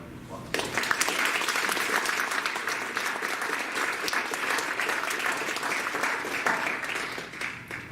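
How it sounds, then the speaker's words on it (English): A symposium audience gives the panelists a round of applause: loud, dense clapping starts abruptly and holds steady for several seconds before easing slightly near the end. "if we could give them a nice round of applause"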